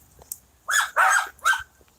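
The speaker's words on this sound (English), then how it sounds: "Shut up, you stupid dogs." Dogs bark three times in quick succession, close and fairly loud against a quiet background.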